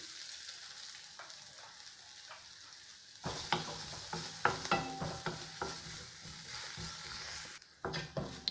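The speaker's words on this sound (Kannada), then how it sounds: "ಈರುಳ್ಳಿ ಫ್ರೈ ಆಗಿದೆ." Chopped onion fries in a pan with turmeric, asafoetida and chilli powder, a quiet hiss at first that turns into a louder, crackling sizzle punctuated by stirring scrapes.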